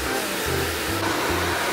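A hair blow dryer blowing during a haircut, a loud steady airy roar with shifting low motor tones as it is moved about, running continuously with no talk.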